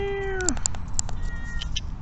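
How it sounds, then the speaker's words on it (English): A reverse tortoiseshell cat meows close by, a short falling cry followed by a few fainter chirping mews, with no talking. "Look like a reverse tortoiseshell or something."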